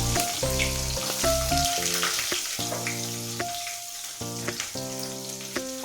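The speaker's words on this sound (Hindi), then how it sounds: "प्याज फ्राई हो रहा है" Chopped onions sizzle in hot oil with whole spices for an egg curry, a steady hiss and crackle running under louder melodic background music throughout.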